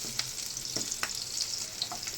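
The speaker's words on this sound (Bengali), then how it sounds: "পেঁয়াজটা বেশ ভাজা ভাজা হয়ে গেছে" Onions frying in a pan for fried rice and aloo dum, a steady crackling sizzle running throughout with a few brief stirring scrapes, close and moderately loud, no talking.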